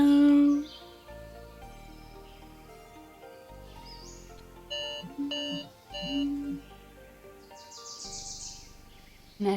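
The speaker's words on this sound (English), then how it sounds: "That was my alarm." An electronic alarm goes off with a melodic run of loud, bright synthetic tones and chirps that plays continuously, with no talking over it.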